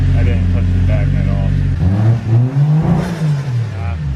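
A Nissan R34 Skyline with a 1J engine fires up, first a steady low engine drone, then rising and falling revs close by, with a voice talking over part of it.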